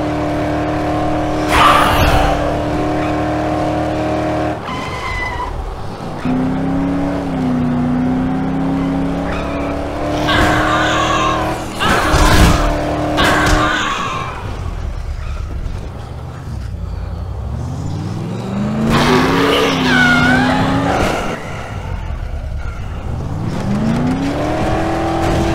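A car driven in Dead Island, its engine rising and falling as it revs and shifts, with repeated tire skids and squeals, a few sharp impact thumps, and loud, close sound throughout.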